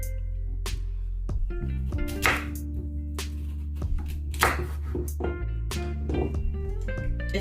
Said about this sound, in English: So I'm cutting them in small pieces